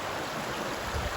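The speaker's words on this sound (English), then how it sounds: "Here's the creek that our property," A mountain creek runs along a wooded property, a soft, steady rushing of water that stays low and even throughout the short stretch, with no voices over it.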